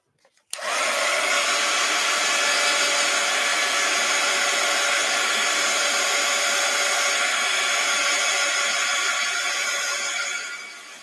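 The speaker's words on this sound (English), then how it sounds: "Let's hit it with the heat gun." A heat gun blows hot air over an art journal page in a steady, loud whooshing roar that starts abruptly and holds for about ten seconds before easing off.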